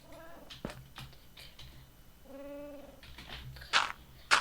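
A Minecraft cat meows in a short drawn-out call amid soft clicks and faint background noise, followed by sharp hissy bursts.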